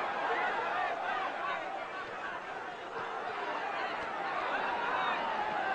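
A boxing arena crowd roars and yells in a dense, continuous wash of voices that holds steady from start to finish.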